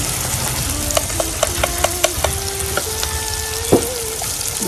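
Curry powder and turmeric paste fry in a pan for a Sri Lankan fish curry, giving a continuous hiss of sizzling oil with a run of faint, evenly spaced high chirping tones above it.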